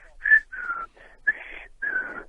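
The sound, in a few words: imitated whistle signal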